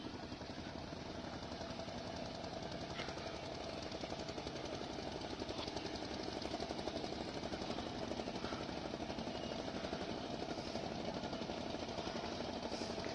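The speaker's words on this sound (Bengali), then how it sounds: "আরো দুইটা ট্রলার আসতেছে একসাথে।" Two fishing trawlers come in together near a dried-fish settlement in Mahipur, their diesel engines a steady, rapid knocking drone heard from a short distance, holding a constant level throughout.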